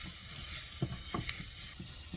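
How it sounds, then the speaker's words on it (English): Spices cook in butter in a pan, a low steady sizzle and hiss broken by a few soft clinks and scrapes of stirring, quiet and close with no talking. "You cook the spices for a few seconds."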